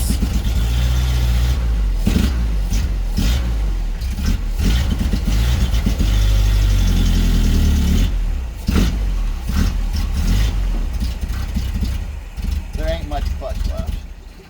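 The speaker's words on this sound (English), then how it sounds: "the first thing you want to do with an engine that hasn't ran in 3 or 4 years is just rev it" A 1986 Nissan farm truck engine, unused for years, revs loudly and roughly up close, rising and falling in repeated bursts, with voices talking over parts of it.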